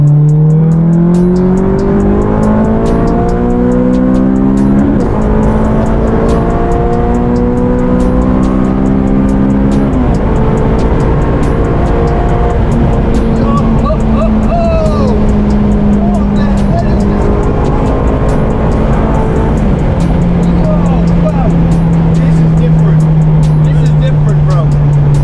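A Honda Civic with a K24 engine is heard from inside while driving, its loud engine rising in pitch through repeated acceleration pulls and gear changes, with a long steady drone toward the end.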